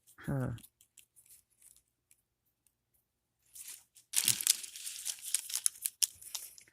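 Scissors snip and crinkle paper for a paper twist Christmas angel ornament, with a burst of close, crisp cutting and rustling after a short pause, preceded by a brief spoken word.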